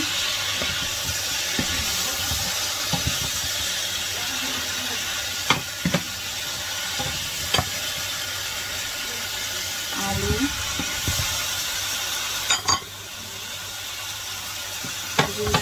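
Beans, potatoes and singha added to a hot pan, sizzling in a loud, constant hiss, broken by occasional clinks and scrapes of a utensil, close by.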